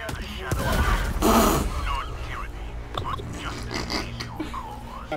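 A grenade goes off in the video game Helldivers, a single short, rough burst close by, with voices talking before and after it.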